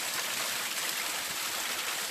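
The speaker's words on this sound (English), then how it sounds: "that's the main area where the spring water is coming down" Fresh spring water pours down on Mount Wellington near Hobart, Tasmania, a steady close rushing and splashing that fills the whole moment without pause or voices.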